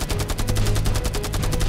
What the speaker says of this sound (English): The Sabres now turned and opened their cannons onto the airstrip.